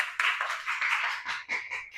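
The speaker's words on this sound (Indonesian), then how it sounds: "Tepuk tangan untuk kita semua" Brief burst of clapping from a classroom of schoolchildren, a few overlapping hands close by, fading into scattered claps after about two seconds.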